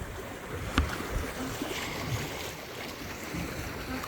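A sailing boat running downwind off Barbados under stable sails, with a steady wash of wind and waves against the hull and an occasional knock, fairly close and with no talk.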